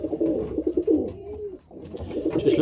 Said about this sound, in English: just in the flying loft at the minute,